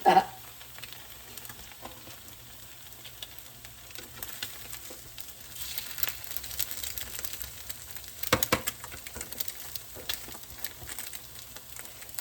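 Onions frying in a pan for tomato gravy, giving a steady low sizzle and crackle that runs throughout, with a few louder spits near the middle and no talking over it.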